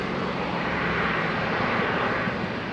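A Qatar Airways Boeing 777 takes off from London Heathrow runway 27 right, its jet engines a loud, steady broadband roar that holds without a break throughout.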